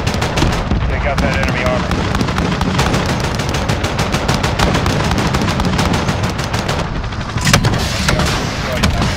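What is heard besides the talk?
helicopter gun fire in Call of Duty Modern Warfare video game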